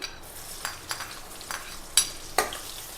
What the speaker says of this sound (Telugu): ఆనియన్ కొంచెం ఆయిల్లో వేగాలి అంతే